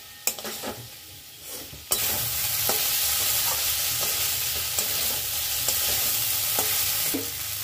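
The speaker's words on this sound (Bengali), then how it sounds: "এবার মশলাদার পেঁয়াজ কলি ভাজা" Spicy onion pakoras frying in hot oil, a continuous loud sizzle that jumps up sharply after a quieter start, with occasional stirring clinks over the bubbling.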